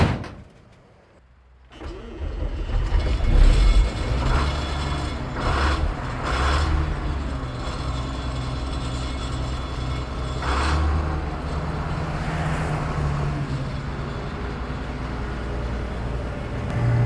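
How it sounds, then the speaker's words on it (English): Engine of a John Deere-style combine harvester idling after a cold-morning start, a steady low rumble with a faint high turbo whistle layered on top, continuous and close. "That turbo whistle. I'm like addicted to the sound of this engine."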